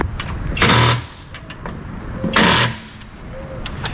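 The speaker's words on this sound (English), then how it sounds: "let me zap it with the brake clean." Brake cleaner sprayed onto a 1996 Corvette wheel hub in two loud hissing bursts, each about half a second long, separated by quieter shop background noise.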